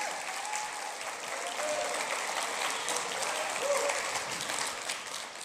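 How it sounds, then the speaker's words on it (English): Church congregation giving a pastor a round of applause, a dense, sustained clapping from a large crowd that holds steady throughout, moderately distant and even. "Randy, give him a round of applause."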